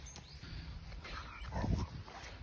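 A dog whimpers and yips softly at home while short ribs cook in the oven, faint and intermittent, with a slightly louder burst toward the end.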